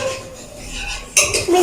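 A serving spoon scrapes and clinks against a pot as kacche masale ki biryani is dished out, with a few close, sharp metallic knocks after soft rustling.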